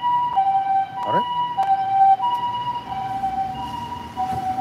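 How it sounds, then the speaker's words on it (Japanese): Ambulance siren on a Tokyo street sweeping past with a steady two-tone wail, moderately loud over road traffic and background hum, its pitch shifting as it goes by. "あ、今救急車です。"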